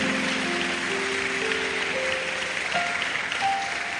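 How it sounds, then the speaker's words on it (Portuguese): A church congregation claps in a continuous, even wash of hands, with sustained keyboard notes ringing over the applause throughout. "Dê uma salva de palmas ao Espírito Santo."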